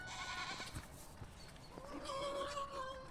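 A young goat bleats on a farm, giving a few short wavering cries over quiet background noise, with a faint second bleat toward the end.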